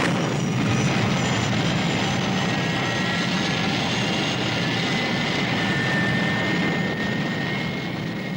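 A vintage 1960s airplane engine drones loud and steady at close range throughout the take-off run, with a continuous roar and whine and no talking.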